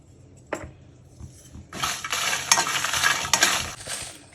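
Around ten unpeeled garlic cloves dry-roasting in a pan, an initial tap followed by a burst of rattling, scraping stirring against the pan that continues for a couple of seconds.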